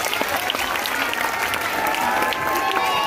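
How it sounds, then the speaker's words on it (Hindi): Crowd at a Shri Ganesh Mahotsav celebration in Navodaya Nagar gives steady, dense applause for a former soldier, the clapping continuous and fairly loud throughout with some voices mixed in. "तो जोरदार ताली बजाइए सर के लिए।"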